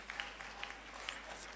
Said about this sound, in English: Yes, keep clapping, keep clapping